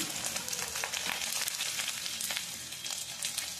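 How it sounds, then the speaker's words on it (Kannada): Garlic, dried red chillies and cumin fry in a pan, giving a steady close-up sizzle with a few brighter crackling bursts throughout and no voices. "ಇದನ್ನು ಕೂಡ ಸ್ವಲ್ಪ ಹೊತ್ತು ಈ ತರ ಫ್ರೈ ಮಾಡ್ಕೋಬೇಕು"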